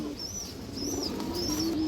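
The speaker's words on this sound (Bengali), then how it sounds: "মুসলদম উড়ি লাইনের কবুতর" Muslam high-flyer pigeons coo in low, rolling calls, nearby and moderate, while higher chirps rise and fall three times above them.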